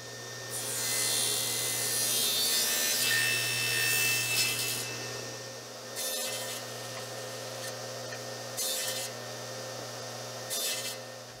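Wood parts are cut on a table saw with its blade tilted: a steady low motor hum runs throughout, with one long cutting pass up front and several shorter cuts later, close and moderately loud.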